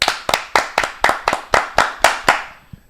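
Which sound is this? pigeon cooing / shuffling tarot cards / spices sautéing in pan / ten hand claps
ten hand claps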